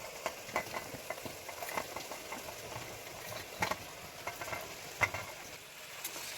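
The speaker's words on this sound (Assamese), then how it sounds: "মাংসখিনি ফ্ৰাই কৰি লওঁ এতিয়া।" Chicken meat frying in a pan for biryani gives a steady, soft sizzle, with a few sharper clicks and scrapes of stirring near the end; no one speaks.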